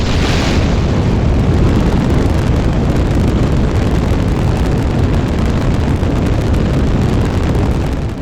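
A rocket engine in the Kerbal Space Program video game gives a dense, continuous roar that holds steady and loud for the whole stretch, with no voices, easing only slightly at the very end.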